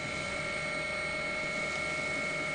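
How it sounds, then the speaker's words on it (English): Helicopter dropping water on a damaged nuclear reactor building at Fukushima after the 2011 Japan earthquake, a steady rotor and engine drone heard from a distance, constant and moderately loud with no voices. "今ヘリコプターが第3号機に水を投下しました。"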